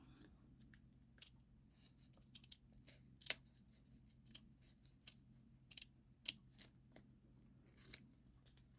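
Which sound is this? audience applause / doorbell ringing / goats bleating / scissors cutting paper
scissors cutting paper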